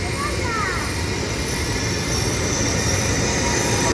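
A high-speed train pulling into a station: a loud, continuous rumble of rolling wheels with faint high squeals, steady throughout at close range.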